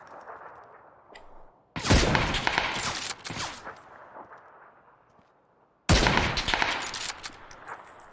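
Gunfire in the video game PUBG comes in two loud, abrupt volleys of rapid shots with sharp cracks and echoing tails, separated by a quieter stretch of background noise.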